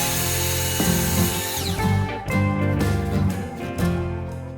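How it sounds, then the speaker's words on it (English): Power drill boring into wood while building a wooden grill caddy, with a steady whirring motor that surges and dips across several short bursts, close and loud, with no talking. "mark the center, and drill from the inside to the outside."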